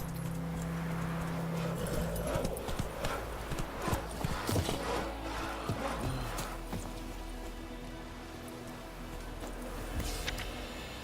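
Horse hooves clip-clop at a steady gallop across the ground in the Witcher 3 video game, a continuous rhythmic drumming with game ambience behind it and no talking.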